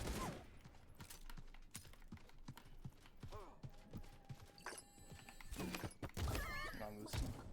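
Gunfire from a weapon in the video game Realm Royale rattles off in quick repeated shots and clattering bursts, mixed with game effects, keyboard tapping and someone talking over it.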